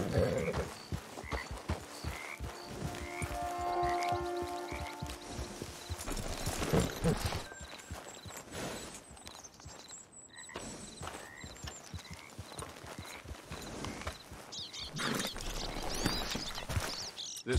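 Rhythmic hoofbeats of a horse trotting in Red Dead Redemption 2 Online, steady and fairly close, layered with a busy ambient soundscape and occasional tonal chimes.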